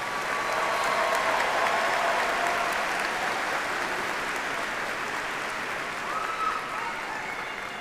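A large audience applauds doctoral graduates at a commencement ceremony, with a thick, steady wash of clapping that holds at an even level throughout.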